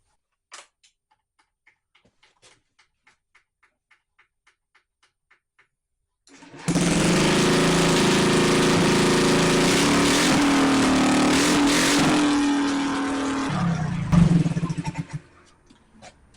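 A Honda Metropolitan scooter with a patched exhaust starts up after a few faint ticks, then idles loudly and steadily with a buzzing exhaust note. It revs briefly near the end and then shuts off.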